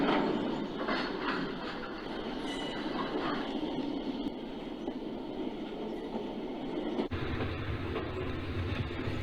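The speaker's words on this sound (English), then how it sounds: "one of those coal transfers has just been dispatched towards West Mill" A model railroad coal transfer train rolls across a layout with a steady, low rumbling clatter that stays even throughout, heard alone and at moderate distance.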